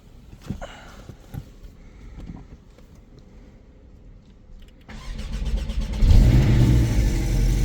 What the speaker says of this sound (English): Let's go ahead and see if she cranks over.